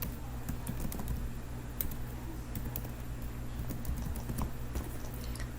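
Someone types a scope name on a computer keyboard in a quiet room, a run of light, close keystrokes clicking at an uneven pace over a faint background hum.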